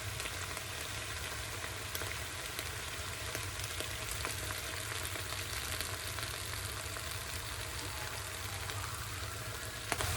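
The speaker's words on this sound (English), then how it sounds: "put in the veggies, the mustard greens" Mustard greens fry in a pan for a Shanghainese sweet-and-sour dish, giving a steady, dense sizzle with crackles that continues unbroken throughout, and no one speaks.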